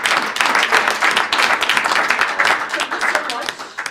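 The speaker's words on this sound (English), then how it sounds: "So, big round of applause." An audience gives a round of applause to doctors who spoke at a question-and-answer session, a thick, continuous wash of clapping with a faint voice underneath.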